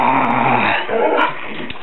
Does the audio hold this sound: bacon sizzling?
no